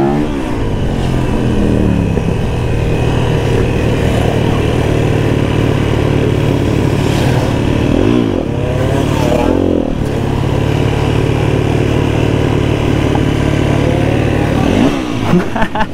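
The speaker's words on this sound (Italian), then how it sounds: "Proviamo la fluidibilità di questa moto." Motorcycle engine running steadily up close at a motorcycle rally, with a few revs rising and falling as it rides, loud and continuous throughout.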